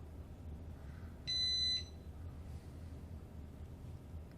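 A single short electronic beep, clear and tonal, rises briefly over a steady low background hum.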